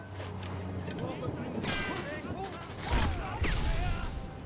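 Panzerschreck rocket launcher firing in the Sniper Elite 3 video game, with loud blasts and explosive booms over a busy din of gunfire and battle noise, and a player talking throughout.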